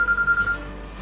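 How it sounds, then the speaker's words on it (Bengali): A mobile phone ringing, a short steady electronic ringtone tone sounding clearly for about half a second, then a quieter hum. "এই না রিং হইতেছে।"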